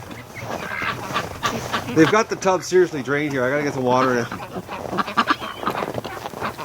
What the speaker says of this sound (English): all the little duckies. Just look at them. They're so cute today.